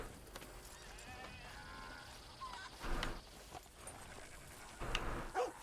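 A horse whinnies twice in Red Dead Redemption 2, once midway and again near the end, over a steady bed of ambient game sound with faint hoof-like clatter.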